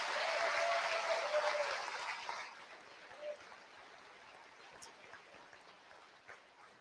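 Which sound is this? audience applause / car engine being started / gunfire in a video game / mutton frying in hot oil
audience applause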